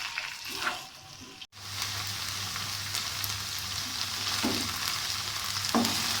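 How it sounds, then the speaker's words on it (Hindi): Okra and onion frying hard in oil over a full flame, a dense continuous sizzle with a brief cut near the start and occasional soft scrapes of stirring. "अब हम इसको फ्राई करते हैं, फुल फ्लेम इसका रख लें और इसको हम इंशाल्लाह फ्राई करते हैं"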